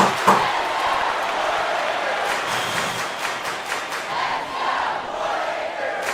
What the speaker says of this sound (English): Listen to the crowd, bud.